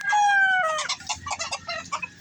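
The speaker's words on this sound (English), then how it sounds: "There goes a white rooster with a pure mug hen." Gamefowl chickens, a white rooster and a pure mug hen, give a close, loud crow that breaks into a run of rapid, overlapping clucks and squawks.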